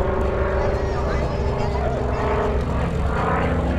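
A P-40 fighter plane's propeller engine drones steadily and loudly as it flies past at the Cholet air show in 2016, a continuous roar filling the whole stretch with faint voices beneath it.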